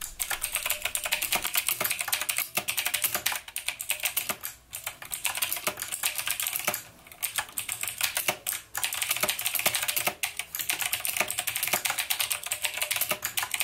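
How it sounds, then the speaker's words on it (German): Dense, continuous clicky typing on a mechanical RGB gaming keyboard with blue switches, sharp rapid keystrokes close and loud with only brief pauses, no voices. "Weil es die blauen Schalter sind, haben die dieses taktile Feeling, also und eben dieses Klickgeräusch"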